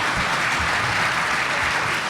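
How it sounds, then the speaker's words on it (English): Sustained applause from a symposium audience on flooding and storm surge, a full room clapping continuously and evenly for the whole short stretch without speech. "Give them all a big round of applause."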